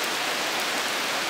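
Steady rain falls outdoors in Allegany, a dense, even hiss of drops that continues unbroken and fairly loud throughout, with no talking.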